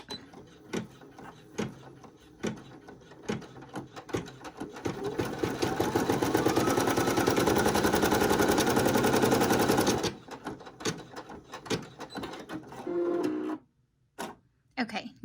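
A Brother PE800 embroidery machine stitches an applique onto a shirt, running in a loud, continuous rapid whirring burst of several seconds after scattered clicks and handling noises, with a voice talking at the start and end.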